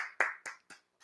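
A church congregation claps together in a few separate strokes, each one sharp and ringing, then quickly getting fainter and ending within a second.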